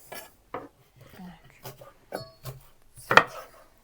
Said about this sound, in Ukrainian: Я нарізаю цибулю.